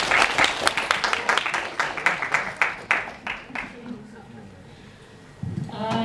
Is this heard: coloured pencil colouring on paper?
no